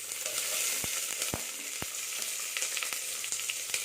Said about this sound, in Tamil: ஒரு ஸ்பூன் கடுகு உளுத்தம்பருப்பு போட்டு தாளிச்சிக்கலாம்